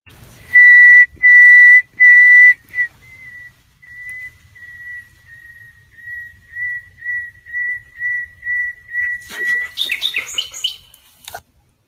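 A man whistles a clear, steady pure tone in loud repeated notes, answered by a nightingale's rapid, fluttering song that rises near the end, close and unaccompanied by talk.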